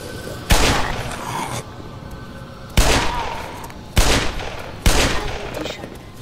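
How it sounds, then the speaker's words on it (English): Magnum and shotgun blasts from the Black Mesa video game come as four loud, separate shots, each with a sharp attack and a reverberant tail. The shots are spaced unevenly over a few seconds, with a quieter background between them. "Miss with a magnum, shoot to the face with a shotgun."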